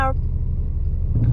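Heavy early-evening road traffic in Tehran, a steady low car rumble close by and continuous throughout, with a brief vehicle tone at the start and a slight swell near the end.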